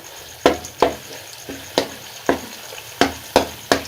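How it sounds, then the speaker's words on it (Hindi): Khoya cooked down over low heat in a pan, with a spoon or spatula scraping and stirring it in a steady series of close, crisp strokes and a faint sizzle underneath. "खोए को पकाते हुए आपने आंच को थोड़ा सा लो कर देना है"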